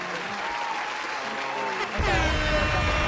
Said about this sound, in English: Round of applause for Brittany, man.